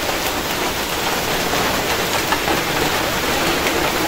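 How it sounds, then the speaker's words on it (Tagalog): Steady rain pours down all day on a wet Sunday, a dense, even hiss of drops on surfaces that holds without a break, close and moderately loud, with no voices over it. "Maulang Sunday. Maghapon ng umuulan."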